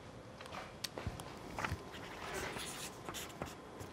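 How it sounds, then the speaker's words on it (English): Handwriting notes, a pen or marker scratching in short strokes across paper, close by under a noisy background. "Let me write those two things down."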